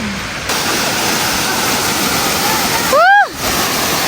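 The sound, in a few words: waterfall rushing water on a jungle trail in Thailand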